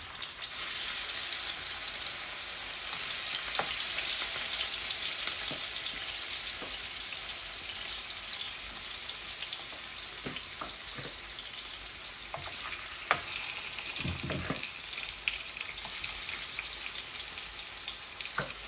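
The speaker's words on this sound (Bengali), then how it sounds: "এই যে এখানে অনেকটা মাছ আমি ভাজি করার জন্য বসিয়ে দিচ্ছি।" A large batch of fish fries in hot oil in a pan, a continuous crackling sizzle with scattered pops and spatters, close and even for the whole stretch, no voices.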